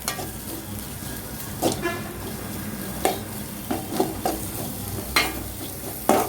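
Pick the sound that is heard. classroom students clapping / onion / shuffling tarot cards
onion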